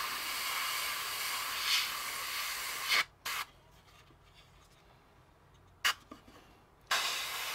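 An airbrush sprays acrylic paint in steady hissing bursts, with the air cutting off around three seconds in and brief puffs of spray following before a fresh continuous burst resumes near the end.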